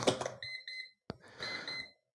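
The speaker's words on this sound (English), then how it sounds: "that's my Pomodoro timer" A Pomodoro timer alarm sounds nearby, giving a few short electronic beeping bursts in two groups with a brief gap between them, fairly quiet, with no talk.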